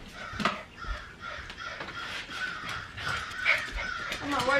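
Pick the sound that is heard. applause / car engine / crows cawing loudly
crows cawing loudly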